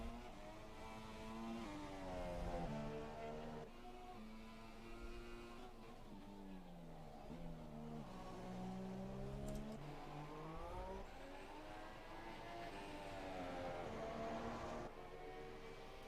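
A Sauber Formula 1 car in the F1 2017 racing game on a flying lap at the Hungarian Grand Prix, its high-pitched engine rising and falling through gear changes and corners, loud and steady with no talk over it.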